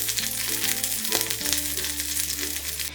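Kashmiri chillies fry in coconut oil in an iron pan, giving a loud, continuous sizzle with crackling bursts, accompanied by soft background music.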